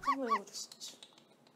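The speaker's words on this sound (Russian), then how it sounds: "Он большая собака." A dog gives two short, high whimpering yelps close by, quickly followed by soft breathy sounds that fade, while people speak faintly over it.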